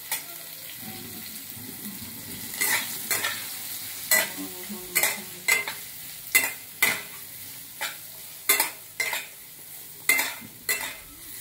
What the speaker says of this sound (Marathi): त्या तेलामध्ये मी कैरी परतून घेत आहे